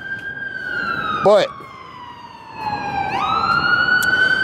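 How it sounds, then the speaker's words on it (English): A loud, wailing siren sweeps slowly up and down, close by, with a short spoken word breaking in partway through. "And I can't stop hearing the siren."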